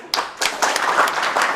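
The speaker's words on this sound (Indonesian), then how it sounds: "Boleh tepuk tangan?" An audience at an Indonesian talk-show interview bursts into applause, a close, dense flurry of hand claps lasting a second or two.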